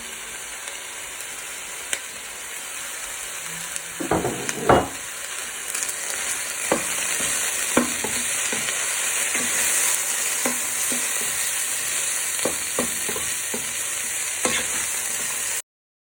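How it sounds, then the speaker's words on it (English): Mince, onions and mushrooms frying in a pan give a steady, close sizzle, broken by scattered clacks and scrapes as the mixture is stirred. "and mushrooms to your mince and give them a good stir so the onions can brown"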